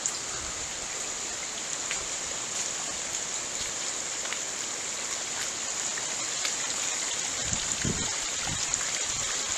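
Steady outdoor rain at the Hollinshead Hall ruins and well house, a constant hiss with occasional sharper drips and small knocks near the end, fairly faint and with no talk.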